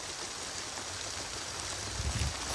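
Steady rain hiss falling across a construction site where a dozer works, a continuous broadband wash with a few low rumbles toward the end and no voices.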